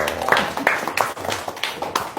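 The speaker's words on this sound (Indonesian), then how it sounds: "Tepuk tangan dong." A small audience at a podcast session clapping, with irregular hand claps coming in scattered bursts and voices mixed in beneath.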